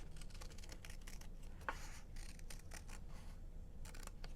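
Scissors cutting paper along a template line for party tent cards, a quiet series of close snips and crisp rustles over low background hiss.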